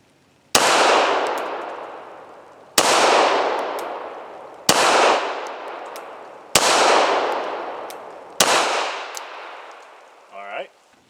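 Five slow, evenly spaced shots from an FN 509 Tactical pistol fired at close range on a shooting range, each a loud sharp crack with a long decaying echo, followed by a brief clatter at the end.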